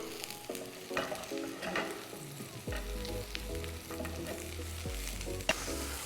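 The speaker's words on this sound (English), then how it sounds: "I have some mushrooms that I chopped up in some olive oil." Chopped mushrooms fry in olive oil in a pan, giving a steady close sizzle with intermittent scraping and stirring clatter throughout, no voices.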